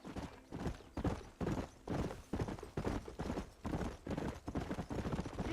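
Horse hooves clip-clopping at a steady trot in the video game Red Dead Redemption, a continuous rhythmic clatter of hoofbeats under faint background noise, fairly quiet.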